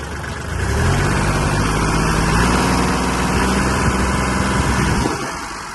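A Kubota GL-25 mini tractor's small engine rises from idle to a steady, buzzing rev, holds for several seconds close by, then drops back down.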